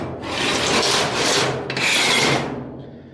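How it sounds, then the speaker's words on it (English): An abrasive grinder works down a weld on a Chevy truck bed, giving a loud, steady rasping grind in two long passes with a brief dip between them, then tapering off near the end. "I gotta grind that down yet."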